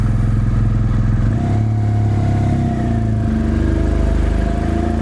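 A BMW motorcycle engine under way, a loud, close, continuous throbbing note that dips and rises in pitch as the bike rides, with no voices.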